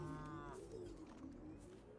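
A cow moos in a video game, a drawn-out lowing call over steady game background noise, close and moderately loud.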